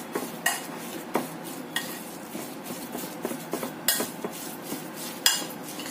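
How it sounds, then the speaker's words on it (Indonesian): A seasoned mixture with sugar stirred in a bowl, with repeated utensil scrapes and clinks in an uneven rhythm over several seconds, close and fairly quiet with no talking. "Kita aduk lagi sampai semuanya tercampur rata."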